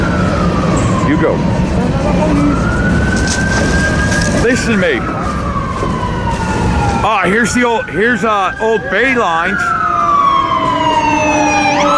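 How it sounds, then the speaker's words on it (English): A fire truck siren wails loud and close, its long rising and falling tone switching to a rapid yelp midway as it passes, while people talk nearby. "A fire truck."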